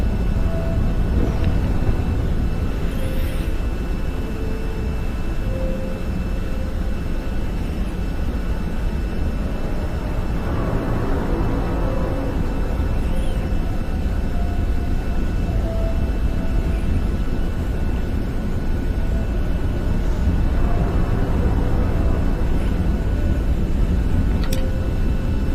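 Jet engine roar of an aircraft in VTOL VR, a loud, steady broadband drone with a faint tonal whine holding for over twenty seconds, with no talking over it.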